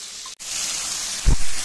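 Chicken fries in a pan over a high flame, giving a continuous bright sizzle and hiss with a brief dip and a soft thump near the end. It is close and steady, with no voices.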